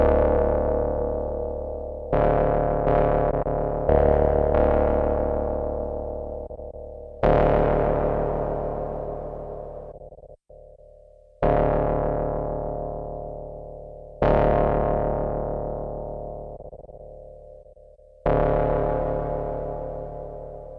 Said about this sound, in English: the reverb type you can change here. So right now it's on Hall.